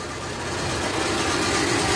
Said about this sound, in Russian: Вот, сейчас автомобиль работает на газу. Все, вот педаль газа отпущенная.